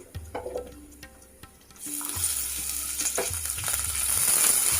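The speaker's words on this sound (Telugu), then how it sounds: "కొంచెం వేగాలి కాజు." Half a cup of cashews frying in a pan in a home kitchen, a soft sizzle that grows into a dense, steady hiss of hot oil, with faint light clatter early on.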